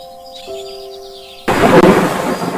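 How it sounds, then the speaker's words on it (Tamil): A thunderstorm effect in a children's story about a big storm in the forest: a soft musical tone holds, then a sudden loud crash of thunder rolls on with rumbling, noisy energy to the end. "காட்டில் பெரிய புயல் வீசியது"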